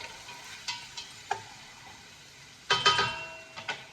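Dried squid simmering with tomatoes in a pot: a soft steady bubbling hiss with scattered sharp ticks and pops, swelling into a louder cluster of crackles, no speech over it.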